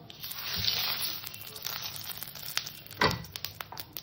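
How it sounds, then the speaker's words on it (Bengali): Cumin seeds and a bay leaf sizzle in a little hot oil as a tempering for a catfish curry with potato and green banana, a steady close crackle that has a louder burst near the start and another about three seconds in. "আমার ফোড়নটা ভাজা হয়ে গেছে"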